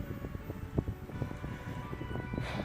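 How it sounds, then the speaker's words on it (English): Outdoor wind buffets the microphone in uneven low gusts that keep rumbling close and steady, with a brief rushing swell near the end. "We definitely have some wind now"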